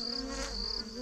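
Honeybees at the hive buzz busily in the early morning, a steady, close, droning hum with no one talking.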